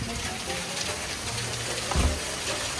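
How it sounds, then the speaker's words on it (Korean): Hail pours down outside, a dense, continuous patter of small stones on surfaces with one louder thump partway through. "이와 함께 우박이 쏟아지고 있습니다"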